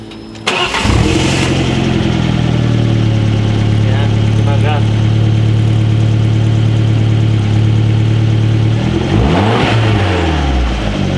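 Alfa Romeo MiTo GTA engine fitted with a new Ragazzon exhaust starts with a sharp burst, then settles into a loud, steady idle with a drone, ending in a couple of rising revs close by.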